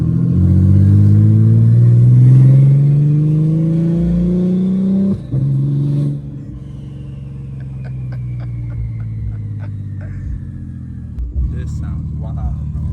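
A 1500 bhp BMW M3 Competition accelerates hard, its engine note climbing loudly through the gears with a brief shift break, then settling into a quieter rumble with faint clicks and people talking.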